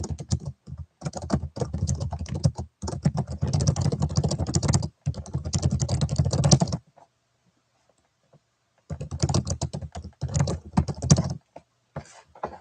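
Typing on a computer keyboard, close and fairly loud, in rapid bursts of clicking keystrokes with a silent pause in the middle before the typing resumes.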